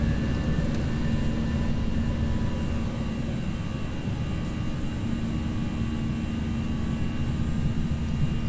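Steady, loud roar of Airbus A319 CFM jet engines at takeoff power from Chicago O'Hare in a flight simulator game, a constant broadband rumble with a faint high whine that holds without break.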